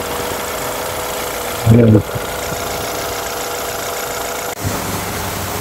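A BMW 520i with an N20 petrol engine idles after a top overhaul, a steady close mechanical hum and rumble that continues throughout, with a brief spoken word over it.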